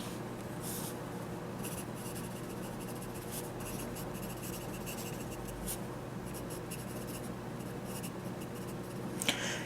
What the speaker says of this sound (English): Let's take a write, shall we? Here. Got a notebook right here.